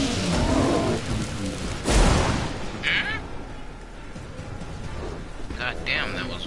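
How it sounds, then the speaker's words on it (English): An explosion in The Witcher 3 video game bursts out as one loud, broad blast near the middle, rising over ongoing game noise and rumbling, with brief bright crackles afterward and a person talking through much of it. "that was one hell of an explosion"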